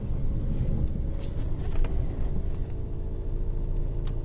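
Steady low rumble of a 1993 Lincoln Town Car V8 engine idling, continuous and fairly loud, with no talk over it.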